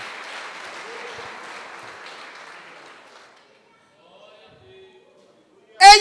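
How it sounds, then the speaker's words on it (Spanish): Church congregation clapping for Jesus during a service, a broad wash of applause that fades out over about three seconds, followed by quiet and a brief loud burst at the very end. "Dale un aplauso al Rey de Reyes."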